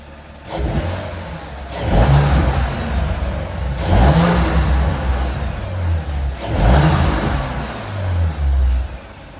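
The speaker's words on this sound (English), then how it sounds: "Let me go ahead and start the car up and I'll show you guys how it sounds." An Audi RS5 engine with an aftermarket turbo intake, hood open, turns over and revs repeatedly, three loud surges rising and falling over a rumbling idle, close by.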